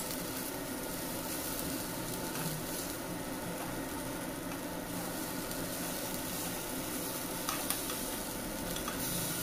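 Brinjal frying and slightly charring in a kadai gives a continuous, even sizzle at close range for the whole stretch, with no talking.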